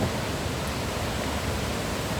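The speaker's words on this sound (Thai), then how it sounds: "เป็นน้ำตกเราก็ลงมาตรงนี้" Steady rushing water pouring over a small weir, a continuous dense roar with no pauses.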